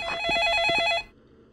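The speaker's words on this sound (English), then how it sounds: "now the phone is ringing" A telephone rings inside a Roblox game, one loud electronic ring burst that lasts about a second and then cuts off, with no talking.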